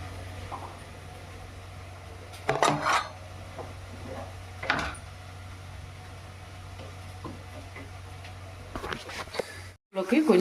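Boiled rice stirred with a spoon into broad bean and mint pulao in a pot: bursts of scraping and clattering over a low steady hum, with quieter gaps between strokes.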